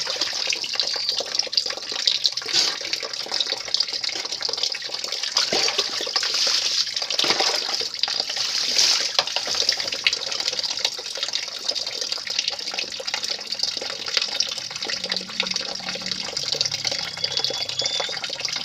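Water splashing and pouring steadily during an outdoor bath outside a house, a continuous hissing wash of liquid that stays close, with a few louder splashes and no talk.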